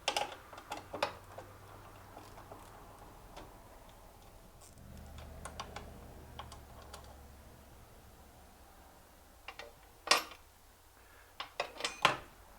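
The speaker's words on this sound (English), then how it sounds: "On the bottom too, I can use a wrench." A wrench works the spare tire carrier bolts on a 1943 Willys MB jeep, giving sparse, quiet metallic clicks and taps with a cluster of sharper knocks near the end.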